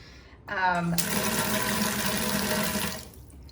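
A hotel bathtub faucet in a Cozumel resort room runs with strong water pressure, a steady loud rushing gush that starts abruptly and stops after a few seconds, with a brief voice just before it.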